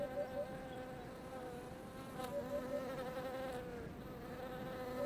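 A large bee buzzes steadily among white bugloss flowers on the eastern coast of the Canary Islands, its drone close and continuous, with a second faint insect hum layered beneath.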